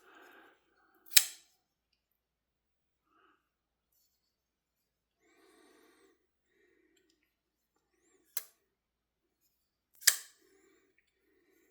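A Civivi Spiny Dogfish folding knife flicks open and shut, giving three sharp, loud metallic snaps spaced across a quiet stretch, with faint handling noise in between.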